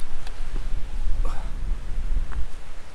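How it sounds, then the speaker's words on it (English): Gusty wind buffets the microphone on a coastal footpath above the sea in Tenerife, a loud, low, fluctuating rumble with a few faint rustles and no voices. "Nice getting a bit of wind."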